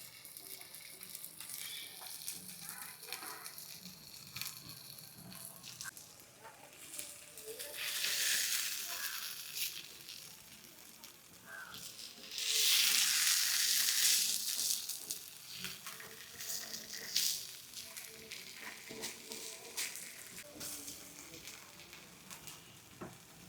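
Marinated fish frying in oil on a hot tava gives a soft, continuous sizzle heard close by, swelling into louder bursts of hiss twice midway, with faint handling noises throughout.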